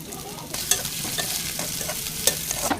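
Dried chillies and chopped garlic fry in hot oil as a tempering for vegetable khichuri. A steady close sizzle is broken by the scrape and clink of stirring.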